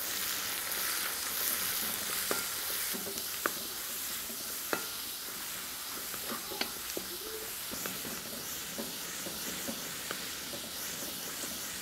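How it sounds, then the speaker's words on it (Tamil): Chopped onions, curry leaves and coriander frying in a pan, a steady sizzle running throughout with frequent light scrapes and taps of stirring, close and clear without voices. "அடுத்து கட் பண்ணி வச்சுருக்க வெங்காயத்தை சேர்த்துக்கலாம்."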